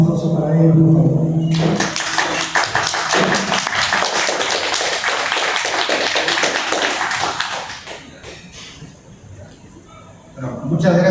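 An audience at a book launch in Lima applauds the head table, with a loud, dense burst of clapping that rises after a brief spoken introduction, holds for several seconds, then fades before a voice resumes.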